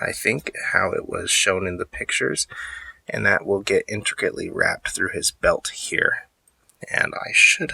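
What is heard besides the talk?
No everyday noise stands out behind the speech.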